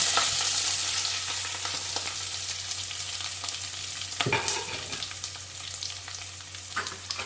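Onions and chillies frying in a pan, a steady bright sizzle throughout with a few stirring scrapes, one stronger scrape near the middle, no talking.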